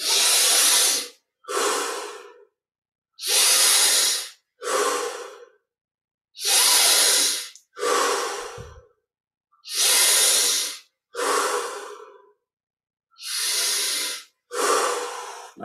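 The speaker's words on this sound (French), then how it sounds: "On prend un peu plus d'air à chaque inspire." Deep yogic breathing during a meditation session, each inhale taking in a little more air: five slow, loud, close breath cycles, each a long airy inhale followed by a shorter exhale, separated by silence.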